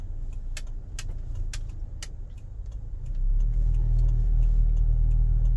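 A 2015 Toyota Kijang Innova 2.0 V Luxury automatic idles with a low, steady engine hum and some sharp ticks, then the rumble grows louder and fuller as the car turns.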